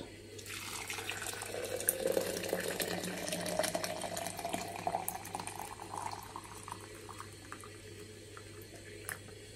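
Cooled water at about 60 degrees poured over chaga birch mushroom: a soft, steady stream of liquid filling a container, rising in pitch as it fills over several seconds, then trailing off into faint drips and quiet splashes, with no talk.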